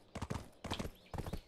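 Horse hooves galloping in Black Desert Online, three quick bursts of rhythmic clip-clop footfalls, close and fairly loud, separated by brief pauses.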